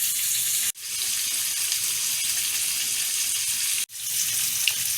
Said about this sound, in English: While the fish is frying, I have the water and the butter heating up